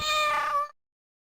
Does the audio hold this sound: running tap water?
no